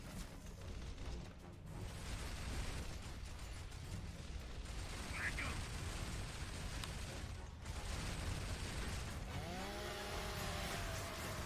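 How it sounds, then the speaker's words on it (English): Chainsaw kill in the video game Gears of War: a dense, continuous mechanical grinding roar runs throughout at steady loudness, ending with rising whining tones. "Did you just chainsaw the Troika guy?"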